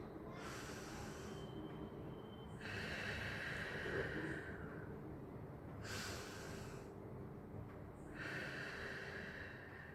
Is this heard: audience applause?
no